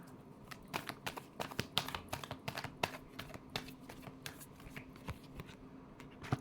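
Tarot cards are shuffled close by in quick bursts of crisp riffling and flicking, soft and continuous over several seconds with no talk.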